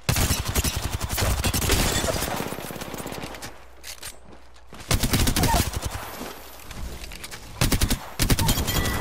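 Bursts of automatic gunfire in the battle royale shooter Apex Legends, loud rapid volleys in several clusters separated by short quieter gaps.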